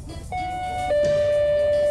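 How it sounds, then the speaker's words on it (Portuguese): A doorbell chime, an outdoor wall-mounted button unit paired with an indoor receiver, rings a clear two-tone electronic ding-dong that sustains loudly, with no talking. "a campainha que você vai comprar para colocar na sua casa é essa aqui"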